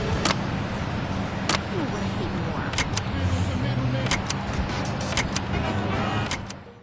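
An older car's radio in Saints Row 2 clicking through stations, with several sharp, separate clicks spaced across engine and road noise inside the vehicle.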